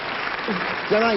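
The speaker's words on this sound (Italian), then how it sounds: "Qui ci voleva l'applauso siciliano." A burst of applause from a theatre audience, steady clapping with a voice rising over it near the end.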